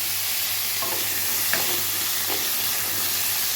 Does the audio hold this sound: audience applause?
no